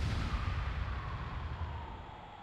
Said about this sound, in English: The explosion is a very nice sound.